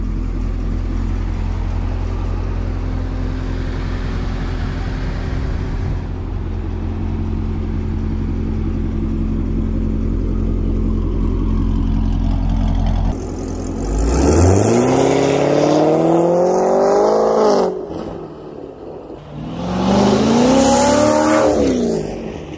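A C7 Corvette with a Corsa Xtreme exhaust idles with a steady low rumble, then revs up twice in strong rising bursts that fall back toward idle.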